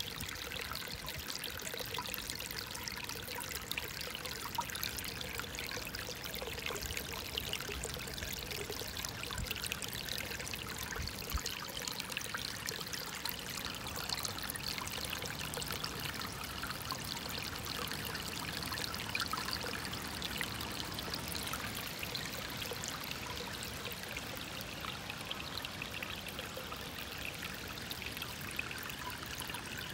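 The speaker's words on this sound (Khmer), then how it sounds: "នៅយើងសម្រាកស្ដាប់ធម្មជាតិបន្តិចទឹកហូររ៉រ៉" A creek flows steadily over its bed, an unbroken rushing and trickling wash of water that stays even in loudness throughout, with no voices.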